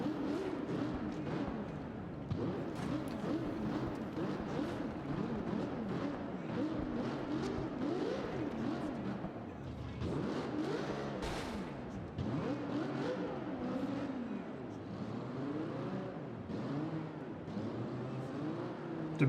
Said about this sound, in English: now we have cave sounds and echoing engines for being underground